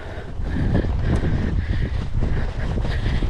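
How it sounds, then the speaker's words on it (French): Loud gusting wind on the Brittany coast near Quiberon buffets the microphone in a constant roar with rumbling surges, with no voices. "il y a beaucoup de vent"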